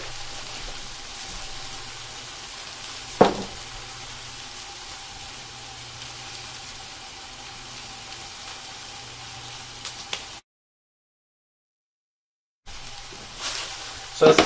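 Hash browns frying in a hot pan, giving a steady, soft sizzle and hiss throughout with a couple of sharp clicks. The sound cuts out briefly, then the sizzle returns.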